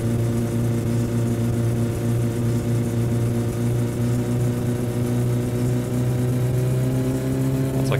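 A car engine holds a steady, droning high-rev whine at over 5,000 RPM, with the pitch creeping slightly upward near the end. It sounds continuous and fairly loud, with no talk.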